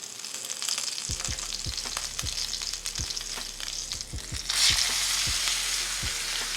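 A Wagyu strip steak searing in a hot pan just after being flipped, a steady close sizzle with a series of low thumps, the frying hiss brightening and growing louder toward the end.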